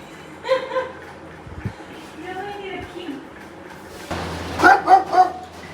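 A few short barks and yips from three dogs kept at a house in Bathinda, at moderate distance, with a person speaking in between and a low cooler hum in the background.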